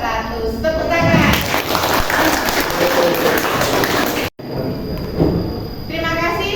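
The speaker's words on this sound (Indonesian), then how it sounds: "Tepuk tangan." Classroom applause from students in an Indonesian school lesson, a dense burst of clapping mixed with children's voices, briefly cut off before resuming with chatter.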